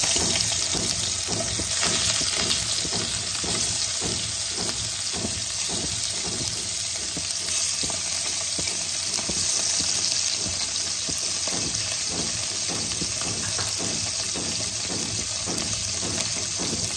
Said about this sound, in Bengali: তেল আমার গরম হয়ে গেছে। এবার আমি মাছগুলোকে একে একে ভেজে নেব।